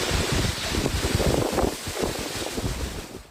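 Strong gusting wind buffets the microphone in a steady loud roar with surging gusts, heard alone with no voices, during a windstorm in the province of Treviso.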